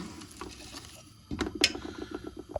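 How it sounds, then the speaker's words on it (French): Vegetables and vermicelli being stirred in a large cooking pot, with soft pattering and clinking scrapes that quicken into a run of rhythmic strokes in the second half. "on va bien mélanger les légumes et les vermicelles"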